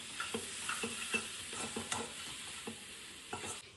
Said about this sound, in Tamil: இதுல நம்ம இந்த பொடி எல்லாம் போட்டுட்டு நல்ல சுருள வதக்கணும்